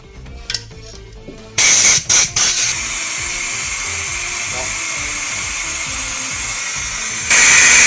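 Compressed air blasting from an air gun to blow oil out of a Peugeot/Citroën TU petrol engine during servicing, with a few short hissing bursts, then a long steady loud jet, renewed louder at the end.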